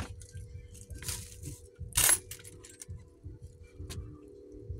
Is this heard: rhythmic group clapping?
no